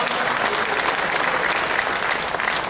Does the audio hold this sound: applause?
yes